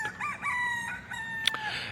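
A rooster crows in repeated, clear calls with a few clucks, fairly near and heard alone without any talking.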